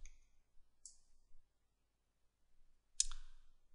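Computer mouse clicks starting a cyclic voltammetry measurement in electrochemistry software on a potentiostat setup, two or three crisp isolated clicks, close and quiet, separated by silence.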